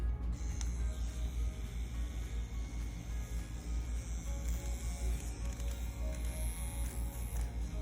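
Solong EM-139 tattoo machine fitted with a cartridge, running with a quiet, steady buzz and a soft, fast pulsing whir, close and with no talk.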